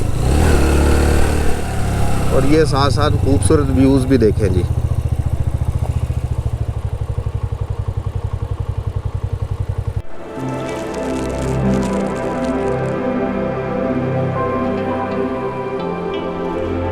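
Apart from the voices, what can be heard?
motorcycle climbing steep mountain jeep track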